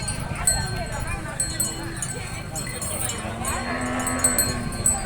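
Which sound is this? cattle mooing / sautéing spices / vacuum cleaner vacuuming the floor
cattle mooing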